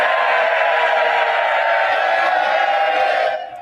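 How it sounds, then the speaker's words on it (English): Conservative benches in the British Parliament erupt for Rishi Sunak after his budget speech, a loud continuous roar of crowd voices and cheering that holds steady before dropping away at the end. "there's the applause from the Conservative benches there for Rishi Sunak"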